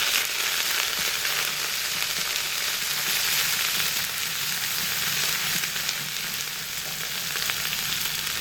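Cumin paste and spices fry in a pan with a dense, even, close sizzle that holds steady throughout, with no talking.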